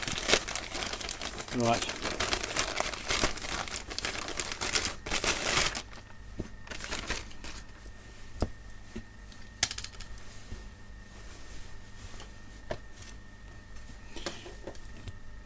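A mail parcel being opened carefully by hand: loud crinkling and tearing of packaging in the first half, then quieter scattered rustles and taps. A voice speaks briefly.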